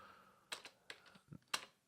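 Code is typed on a computer keyboard in a few sparse, quiet key clicks with short pauses between them, close by and with no talking.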